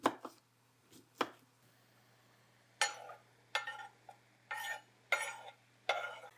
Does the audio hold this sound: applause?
no